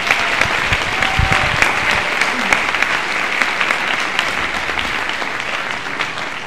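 Audience at a high school winter band concert applauds the Symphonic Band, loud continuous clapping with scattered sharper claps up close, steady throughout and easing slightly at the end.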